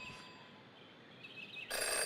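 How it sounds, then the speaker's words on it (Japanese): A payphone rings in the video game Jenny LeClue, its bell tone starting faintly and then swelling into a loud, bright ring near the end, with no talk over it. "Jenny had learned never to ignore a ringing phone."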